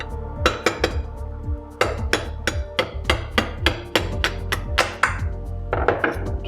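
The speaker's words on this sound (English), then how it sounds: "Just drive that pin out." A screwdriver used as a punch is hammered to drive a pin out of a SAS-12 shotgun trigger group, giving a close series of sharp metallic clinks and taps in an uneven, repeating rhythm.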